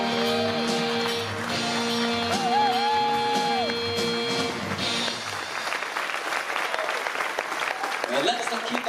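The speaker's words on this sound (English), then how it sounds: "let's not keep that applause going for our pianist, Arena" Audience applause on a cruise ship show swells up under a sustained musical chord, then continues alone as a dense, steady patter of clapping from a crowd, applauding the pianist.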